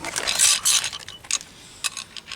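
A torque wrench tightening front brake bolts on a Jaguar X Type, giving a few close, crisp ratcheting clicks and metallic knocks in short bursts before quieter scattered ticks.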